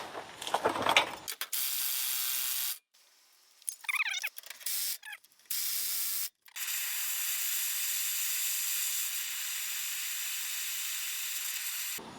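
Impact wrench working a flange nut on a Mazda RX-7 FD3S, heard as several rattling hammering bursts broken by pauses, followed by a long steady hiss of air, loud and close.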